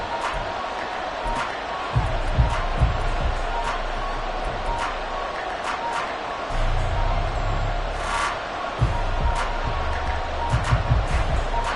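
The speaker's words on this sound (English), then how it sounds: "Crowd getting in it a bit already." A football stadium crowd rumbles with a steady dense roar and swelling bursts of noise throughout, fairly loud and distant, with no clear speech on top.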